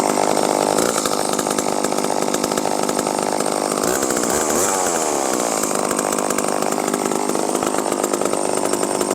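A chainsaw with a two-stroke engine runs loud and close, holding a steady high-revving buzz with slight pitch shifts throughout and no speech.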